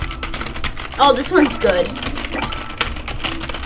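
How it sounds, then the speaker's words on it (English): Rapid typing on a computer keyboard during Roblox play, a dense run of close clicking keystrokes under a voice speaking briefly. "Just spam the keyboard."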